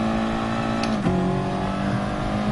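Race car engine in the GT Sport racing game, a steady loud drone that dips briefly as the car shifts into second gear, then holds a level pull as it accelerates away.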